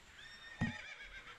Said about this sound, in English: You got a horse.